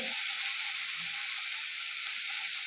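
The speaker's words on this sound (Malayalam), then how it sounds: "ഈ വ എണ്ണ വറവിലേക്ക് ഇടുകയാണ് കഴുകി വെച്ച മുരിങ്ങയില മുരിങ്ങപ്പൂവാണ്" Washed drumstick leaves and drumstick flowers fry in hot oil, giving a steady, bright hissing sizzle that runs evenly without a break, close and moderately loud, no voices.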